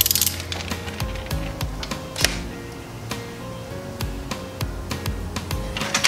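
A ratchet tightens an oil cooler line fitting on a turbocharged BMW E30, producing a steady series of sharp metallic clicks, close up, over a faint mechanical hum.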